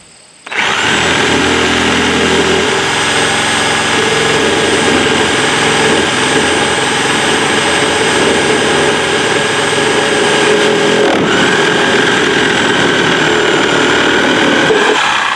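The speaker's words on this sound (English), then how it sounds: "Use the Sawzall one more time." Sawzall reciprocating saw cutting through a wooden cabin post set on a pier, a loud steady buzzing whine that runs continuously for the whole stretch, close by, with no talking.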